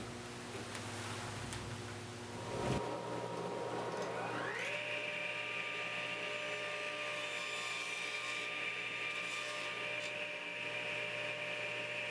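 A saw spins up and runs with a steady high whine while cutting a tenon on a walnut workpiece, the wood held in place by a push stick; the constant motor hum carries on alone with no voices.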